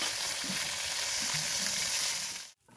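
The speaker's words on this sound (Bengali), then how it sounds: "মাছের পিসগুলো কড়াইতে দিয়ে ভেজে নিলাম।" Pieces of small hilsa fish fry in oil in a wok, a loud, steady sizzle with faint stirring knocks, cutting off abruptly at the end.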